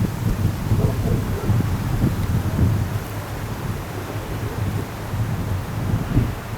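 Wind rushing through trees on a hill at night, a steady broad roar with low gusty rumble and no pauses, fairly close and continuous throughout.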